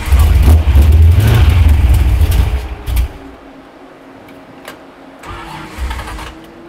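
Pontiac Firebird all-iron V8 engine running loud and close with a deep, rising rev that drops away to a quiet idle, then a brief smaller blip near the end; no talking.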